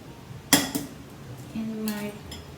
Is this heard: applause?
no